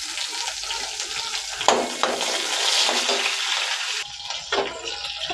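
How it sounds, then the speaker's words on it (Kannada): Onions drop into hot oil with cumin in a pan, a loud sizzle and spatter that surges as they go in, then steady frying hiss with a few stirring knocks. "ಜೀರಿಗೆ ಸ್ವಲ್ಪ, ಇವಾಗ ಈರುಳ್ಳಿ ಹಾಕ್ತೀನಿ"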